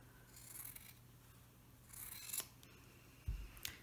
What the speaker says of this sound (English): you're going to trim off the excess here, leaving 1/4 inch seam allowance